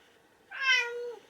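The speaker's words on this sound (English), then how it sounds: "Hey, that's my cat in the background." A single drawn-out cat meow, fairly close and clear, rising then trailing off against a quiet background.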